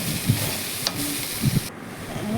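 Onions fry in a pan for a sesame posto dish, with a soft continuous sizzle broken by a few sharp spatula clicks and scrapes against the pan.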